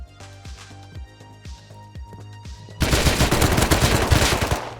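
Gunfire in the game Rust starts as a run of single heavy shots at a steady rhythm, then bursts into dense rapid automatic fire, loud and close, with no voices.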